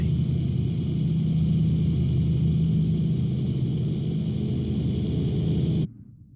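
Hindenburg zeppelin engines in Microsoft Flight Simulator, a steady, loud, low droning rumble that holds evenly for several seconds before cutting off abruptly near the end.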